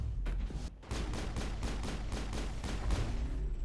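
Rapid bursts of missile fire rattle through a Mass Effect boss fight, a dense, quick series of sharp blasts and impacts with a brief gap near the start, with no voices.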